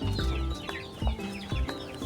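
Free-range native chicks clucking and peeping in a brooder with fresh rice-husk bedding, a cluster of short close calls repeating in quick bursts over a brief moment.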